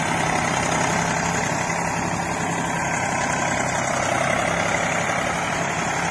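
A heavy diesel Eicher 485 tractor engine runs steadily at a constant, rough drone, close and loud, with no pauses or changes in pace.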